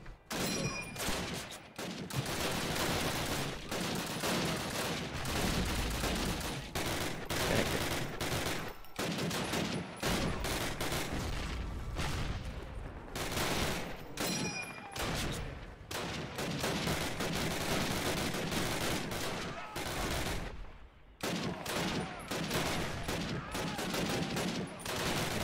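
Near-continuous automatic gunfire and explosions from the Call of Duty war game rattle on loudly for the whole stretch, with only brief gaps between volleys.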